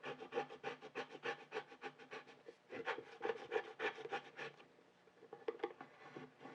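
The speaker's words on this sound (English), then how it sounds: "if you have that little miniature scraping tool, then that will work perfectly as well" A small miniature scraping tool rubs transfer tape onto a wooden sign in quick, rhythmic back-and-forth strokes, close and fairly soft, with a short pause before a few more passes.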